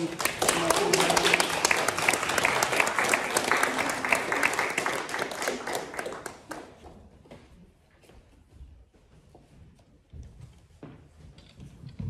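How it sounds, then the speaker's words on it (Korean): A church congregation claps together in thanks after a prayer, a loud burst of many hands that fades out halfway, leaving quieter room sound with faint murmurs. "다 같이 감사의 박수 한번."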